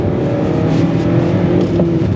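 A Honda Jazz/Fit four-cylinder engine revs steadily while driving, a loud, sustained hum with a rising whine and no talk over it.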